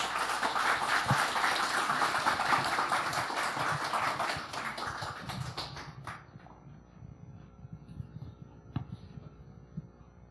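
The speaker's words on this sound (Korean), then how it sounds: "여러분 큰 박수로 맞이해 주시기 바랍니다." A church congregation at a Sunday worship service claps to welcome a pastor. Full, sustained applause fills the room, then thins out and fades after a few seconds, leaving a quiet hall with scattered taps.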